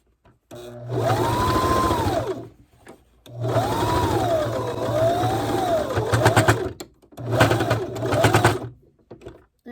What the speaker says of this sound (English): And then I'm gonna sew the other side as well.